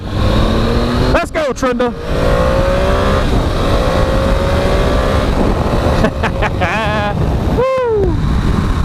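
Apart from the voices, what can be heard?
800 cc motorcycle revving and accelerating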